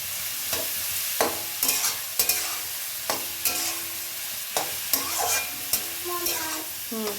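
Whole spices and bay leaf frying in oil for mutton curry: black pepper, cinnamon, cardamom and cloves crackling under a light sizzle, punctuated by repeated clanks and scrapes of a stirring spoon against the pan.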